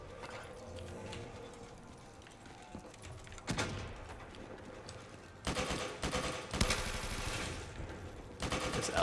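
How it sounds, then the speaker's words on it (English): AK assault rifle fire in Black Ops 3 custom zombies, rapid bursts of automatic gunshots in several runs over a busy game soundscape, moderately loud. "This AK is lighting them up pretty good."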